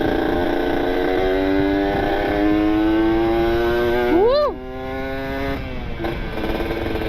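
Kawasaki Ninja RR motorcycle engine held at high revs, a loud close buzzing two-stroke drone that climbs in a quick blip near the end, then drops back to idle.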